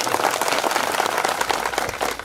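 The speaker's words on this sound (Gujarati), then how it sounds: "તો એ ડેડિયાપાડાની જનતાને પણ એકવાર તાળીઓથી વધાવી લો." A crowd at an outdoor political rally in Chhotaudepur breaks into brief, dense clapping, a loud, even burst of applause lasting a couple of seconds.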